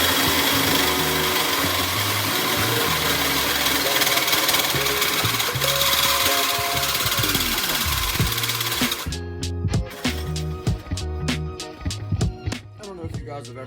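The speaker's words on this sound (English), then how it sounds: "I need to get this hole drilled" Power drill fitted with a 3-inch hole saw cutting a hole during intercooler piping work on a turbo LS Chevy II, a loud continuous grinding whine for about nine seconds, then halting into a stuttering series of catches and bursts.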